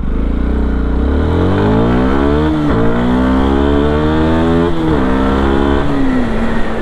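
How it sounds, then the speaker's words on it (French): A car engine pulls steadily while driving in gear, a smooth, loud droning hum from inside the cabin, rising in pitch and then settling again with a couple of brief dips where the gear changes. "un moteur tellement discret que j'ai failli m'arrêter en seconde en me disant c'est bon, je suis déjà au point mort"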